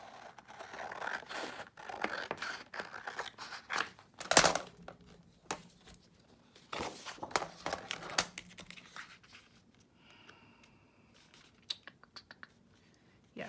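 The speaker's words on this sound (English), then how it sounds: "let me cut off this edge because it's messing me up" Scissors snipping the edge off a paper page while finishing a handmade paper folio, heard as several short, close, dry scrapes and crisp snips with quiet gaps between them and no talking.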